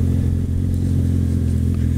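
A motorcycle engine runs with its muffler fallen off, giving a loud, close, raw, buzzing idle with a steady pulsing rumble and slight clatter, and no talk.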